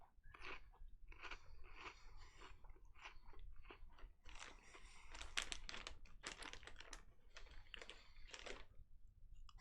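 Pop chips being chewed during a quiz night, a steady run of crisp, crackly crunches close to the microphone, fairly quiet overall and continuing for several seconds without any talking.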